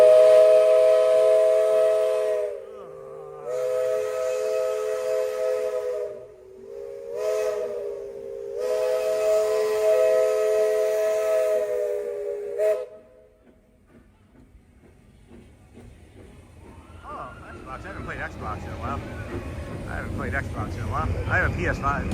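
A Disney World Magic Kingdom steam train sounds its whistle loud and close, in long sustained blasts with short breaks between them. Hissing steam and train noise follow the whistle.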